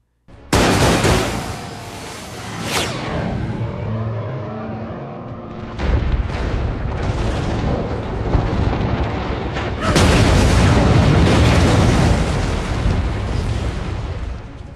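AI-generated rocket launch from a Kling 3.0 render: a loud, continuous roaring rumble with sharp surges near the start, midway and again later, heard alone without talk.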